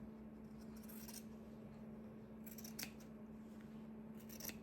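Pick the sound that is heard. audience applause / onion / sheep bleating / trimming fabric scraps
trimming fabric scraps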